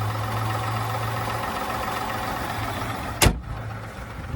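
A 3-liter Duramax diesel in a GMC Sierra 1500 idles steadily with a low rumble, close by in the open engine bay, and a brief sharp clunk near the end.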